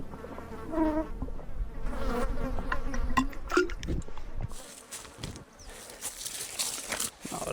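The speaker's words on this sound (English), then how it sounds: "when I'm getting swarmed by mosquitoes like this." A swarm of mosquitoes buzzes close around a person at a wilderness campsite, high whining drones rising and fading over the whole stretch, with occasional rustling and handling noises.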